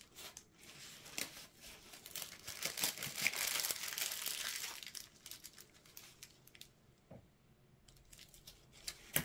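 A piping bag is crinkled and snipped open at the tip, giving close, soft plastic rustling with a few brief sharp clicks, followed by quieter handling noises.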